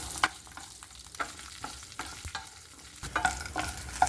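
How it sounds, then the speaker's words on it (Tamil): Shallots and red chillies stirred and sautéing in a pan, a low steady frying crackle with scattered sharper scrapes and stirring clatters, a little louder toward the end. "இது கூடவே நம்ம சின்ன வெங்காயம் ஒரு பதினஞ்சு வெங்காயம் சேர்த்துக்கலாம் சேர்த்துட்டு நல்லா வதக்கி விடுங்களாம்"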